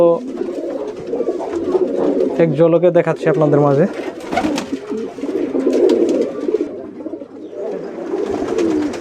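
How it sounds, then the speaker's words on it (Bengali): Many Lahori pigeons, including silver males, coo together in a loft, a dense, overlapping murmur of soft throaty calls running throughout while someone talks over them. "এখানে অসংখ্য কবুতর আছে"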